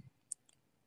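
A single computer mouse click while working in Geneious bioinformatics software, a short faint tick followed by a softer second click, heard alone in a quiet room.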